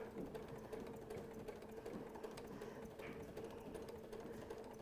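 Sewing machine fitted with a quarter-inch foot running steadily while stitching fabric for a stuffed Christmas nativity craft, a continuous close mechanical whir with fine rapid needle ticks throughout.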